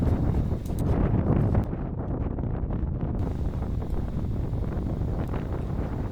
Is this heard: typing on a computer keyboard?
no